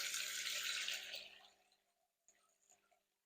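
Water pours into a jug being filled for a fish quarantine tank, a steady rushing stream that tapers off after about a second and a half, followed by a few faint drips and small splashes.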